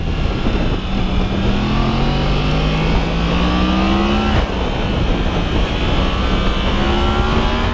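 A Yamaha MT-10 naked motorcycle revs loudly and continuously, its engine note rising and falling through repeated sweeping pitch changes as it accelerates, heard close with no talking.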